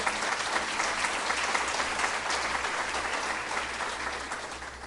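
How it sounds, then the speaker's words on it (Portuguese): A church congregation claps for Jesus during a worship service, dense sustained applause filling the room at even loudness for several seconds, with no voices standing out. "Se você crê, dê um aplauso ao Senhor Jesus"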